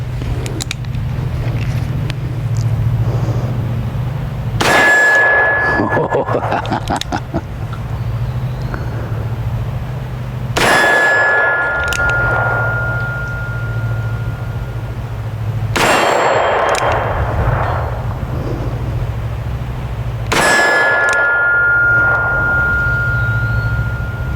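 Four loud, widely spaced Henry Big Boy brass revolver shots at an outdoor range near sundown, each followed by a ringing metallic clang from a steel target, with a steady low hum underneath.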